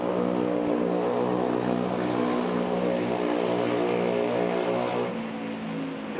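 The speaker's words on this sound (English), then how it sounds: "Manila Cebu Pack taking off here" A Cebu Pacific airliner takes off from runway 31 at Manila's airport, its engines giving a loud, sustained droning roar with layered steady hum tones, easing slightly near the end, and no voices.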